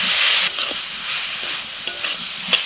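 Onion leaves with red shrimp stir-fried in a pan, a steady sizzle and hiss of frying with occasional scraping stirs, close and continuous without talk.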